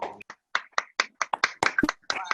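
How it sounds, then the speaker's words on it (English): Participants in an online video meeting for a women's suffrage centennial event clap into their microphones, producing scattered, uneven close claps, with a few voices briefly mixed in. "We all can unmute ourselves and give Helen a lovely round of applause."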